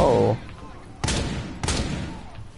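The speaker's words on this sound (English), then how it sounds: "Throwing frag grenade!" Sounds from Rainbow Six gameplay: a loud sustained burst at the start cuts off, then two sharp, booming impacts follow about half a second apart, a frag grenade explosion and gunfire, each with a decaying tail.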